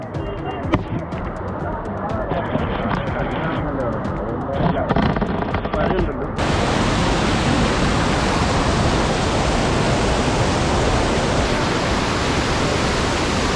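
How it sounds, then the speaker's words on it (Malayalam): A strong river current rushes loudly at Konni, Kerala, a dense, steady roar of water that fills the whole clip, rougher and more broken at first, then smoother and louder after a sudden shift partway through. "ഇവിടാണ് കുത്തൊഴുക്ക് നോക്കടാ"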